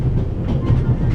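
Rhythmic clickety-clack of a train rolling along the rails in The Raven Remastered, a loud, close, steady rumble with repeating wheel beats.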